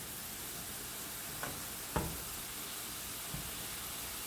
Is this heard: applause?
no